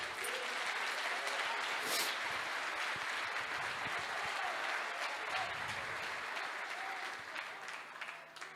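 A church congregation applauds during a sermon, steady sustained clapping from a large crowd filling the whole stretch, mid-distance and even in level, with faint voices mixed in.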